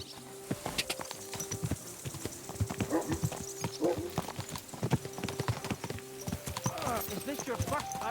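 Horse hooves clip-clopping in a steady walking rhythm while riding in a video game, clear and close, with game voices talking over the hoofbeats.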